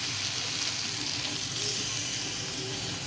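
Shrimp cooking with pointed gourd in a pan sizzles loudly as a little water is added, a dense, steady hiss of frying that persists throughout without any voices.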